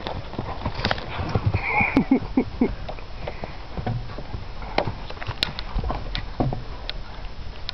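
Clip-clop of a horse's hooves with snorting and a whinny during a mare's first ride, steady hoofbeats close by with occasional louder knocks and no talk.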